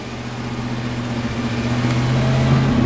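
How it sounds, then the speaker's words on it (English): A 1992 Ford F150 with a 5.8L V8 idles with a restricted exhaust, giving a close, steady, muffled engine drone with a low pulsing hum that strains and rises slightly in pitch toward the end. "you can tell the engine's working really hard trying to run, and it's like it's too quiet"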